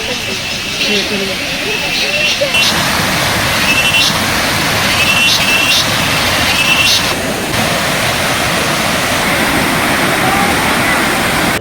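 A waterfall in the Vagamon hills of Kerala roars loudly and constantly from start to finish, a dense, even rush with faint voices barely audible beneath it.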